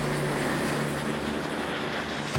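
A firefighters' rescue helicopter hovering over a canyon in Provence produces a steady, loud, close roar of rotor and engine noise that holds unchanged throughout.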